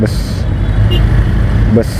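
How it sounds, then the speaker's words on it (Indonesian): A Trans Maminasata city bus passes in busy Makassar traffic, a broad engine rumble and road noise close by, while a voice talks over it. "di sebelah kanan kita ini ada bus"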